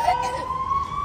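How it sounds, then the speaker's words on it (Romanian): An ambulance siren wails steadily at moderate distance, its sustained tone holding through the second, with a person speaking faintly underneath. "Ia uite, vine acum ambulanța."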